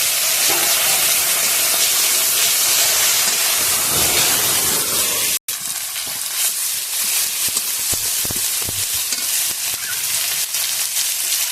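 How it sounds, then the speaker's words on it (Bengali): Chopped tomato goes into a pan of frying fish curry. A loud steady sizzle drops abruptly at the addition, then continues as a softer hiss with intermittent crackling pops, and no talk. "ভালো করে ভাজা হয়ে গেছে এবারে টমেটো কুচনো দিয়ে দেবো"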